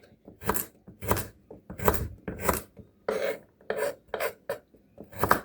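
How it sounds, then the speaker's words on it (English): A knife dices vegetables for lasagne on a board in a run of about ten crisp, evenly spaced chops, close and loud, with no voices. "It's going into a lasagna, so you want it to be quite small"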